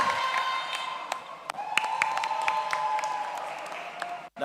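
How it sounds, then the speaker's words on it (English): An audience at a university welcome-week community service conference claps, the applause scattered and uneven, with sharp individual claps standing out over a murmuring hall and a faint sustained tone underneath. "That's the most male applause I heard."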